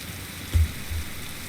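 Steady rain hiss in a Roblox forest survival game, a soft continuous wash with two brief low thumps partway through, no voices.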